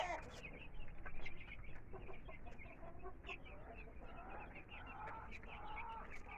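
Rhode Island Red chickens cluck and murmur continuously at close range, with occasional sharper calls over a steady barnyard background.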